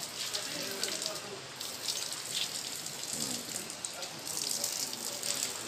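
Water pours steadily from a drinking-water fountain at a historic wooden mosque, a continuous splashing hiss heard fairly close, with faint voices in the background.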